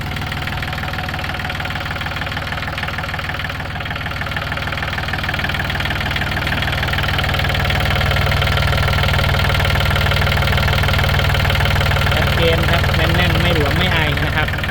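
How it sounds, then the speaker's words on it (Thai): Used Yanmar 39 hp tractor engine idling with a steady, close diesel knock throughout, loud and continuous, while someone talks over it. "มาดูเครื่องยนต์นะครับ"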